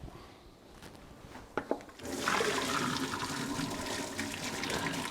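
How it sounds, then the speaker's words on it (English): A pot of fettuccine is poured out into a kitchen sink, a couple of knocks followed by a sudden loud rush of water that keeps splashing and gurgling until the end. "We're going to drain it right here in the sink."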